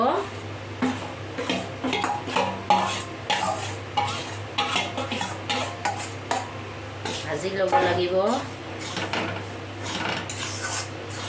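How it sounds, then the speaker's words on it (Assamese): Jaggery powder is stirred in a pan, giving repeated scraping and rubbing strokes in a steady rhythm, fairly soft and close, with a voice speaking occasionally over the stirring. "এতিয়া গুড়াখিনি ভাজি ল'ব লাগিব।"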